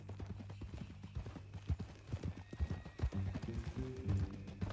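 Red Dead Redemption 2 horse hooves clip-clop at a steady walking pace, quiet and close, with a low hum underneath and faint voices in the background.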